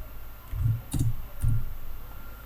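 Keys clack on a computer keyboard while typing a node search in Blender, three distinct close taps spaced about half a second apart, alone in a quiet room.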